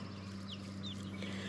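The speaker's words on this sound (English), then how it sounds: "I think that's going to be one of my roosters right there." Farmyard chicken sounds from a young rooster in a wooded homestead flock: a few soft, short clucks over a steady background hum, close but not loud, with no talking.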